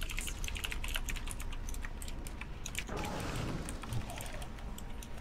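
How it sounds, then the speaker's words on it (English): Steady computer keyboard typing runs through the whole stretch as fast, irregular clicks close by, with faint background chatter and game noise from a World of Warcraft guild raid session. "You're typing a lot"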